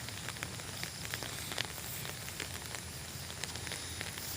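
Rain falling outdoors over a newly planted pineapple field makes a steady, dense hiss with scattered sharper drop ticks, constant and moderately faint, with no voices.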